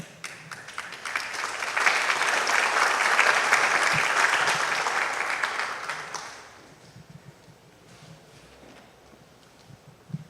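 Audience applause at a seismic risk technical forum in Peru, welcoming a speaker: the clapping swells loudly after a couple of seconds, holds steady, then fades out, leaving a quiet room with faint scattered sounds.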